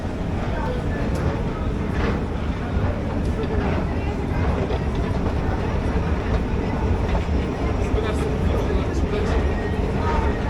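Inside a moving Warsaw Metro train, a loud, continuous rumble and rattle of the carriage on the rails fills the whole span, steady and close, with possible faint voices buried beneath.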